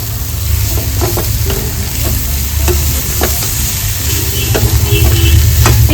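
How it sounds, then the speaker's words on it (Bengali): Fried fish pieces tossed with spices and lime juice in a pan for Bengali fish chop, a steady sizzle under repeated scraping spatula strokes, close and fairly loud with no talk. "আমি মাছগুলোকে আবার ভালো করে মিক্স করে নেবো"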